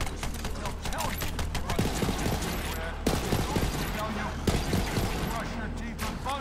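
Assault rifle fire in the video game Borderlands 3, rapid repeated shots and bursts throughout over a dense, busy game soundtrack, with a voice talking intermittently.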